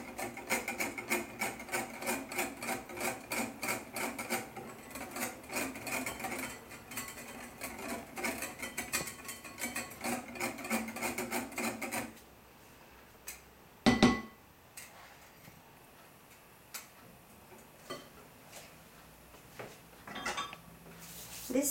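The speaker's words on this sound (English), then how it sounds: "I'm using my hand whisk to mix them together." A hand whisk mixing cake batter for vanilla sponge cupcakes clatters rapidly and steadily against a bowl for about twelve seconds, then stops, leaving a few scattered clinks and taps.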